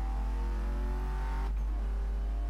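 A Porsche Panamera Turbo S in Need for Speed Most Wanted (2012), its engine droning steadily as it revs and climbs through the gears, then a brief drop and a lift back to a steady, loud run.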